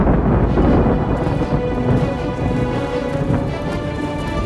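Heavy rain with low rolling thunder pours continuously in a dense, loud wash of noise in a historical drama scene, with no speech over it.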